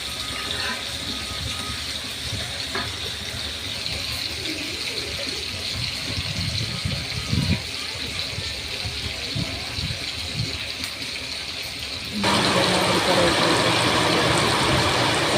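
Heavy rain falls steadily outdoors as a constant hiss, growing noticeably louder and denser toward the end. Occasional faint sounds and voices come through underneath the rain.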